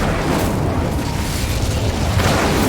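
Confringo and Incendio spell blasts in Hogwarts Legacy, dense rumbling booms and fiery bursts piling up loudly and continuously with no pause.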